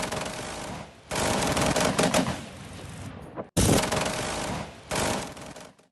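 Russian air defense guns fire at Ukrainian missiles in long, loud, rapid bursts of automatic fire with short breaks between them.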